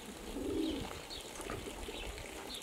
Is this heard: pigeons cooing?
yes